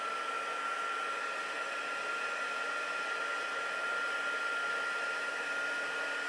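A heat embossing tool runs continuously, giving a steady, moderately faint airy whoosh with a thin high whine and no pauses.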